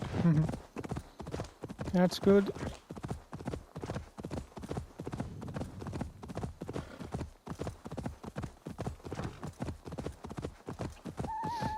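Steady rhythmic clip-clop of horse hooves at a trotting pace throughout in Assassin's Creed Valhalla, with a brief whinny near the start and a short spoken remark.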